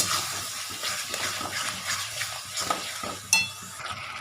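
Spice paste with chili and turmeric sautés in a pan, soft sizzling and intermittent stirring scrapes with a sharper utensil clink near the end, fairly quiet and close.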